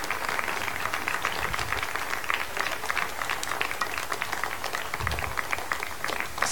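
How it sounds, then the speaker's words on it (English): Applause breaks out among staff in the ESA mission control room after BepiColombo separates from its Ariane 5 launcher, a steady dense patter of clapping that holds throughout at moderate level with faint background noise. "and you can hear the applause"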